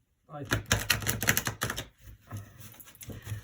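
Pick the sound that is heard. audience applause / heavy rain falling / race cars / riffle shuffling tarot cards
riffle shuffling tarot cards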